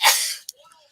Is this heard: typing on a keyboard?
no